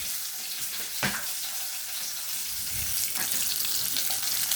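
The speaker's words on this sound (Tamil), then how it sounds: "இதை நல்லா வதக்க விடவும்." Ginger and garlic, with onion, sautéing in a pan: a steady, close sizzle with a soft hiss throughout, broken by a couple of brief utensil clinks.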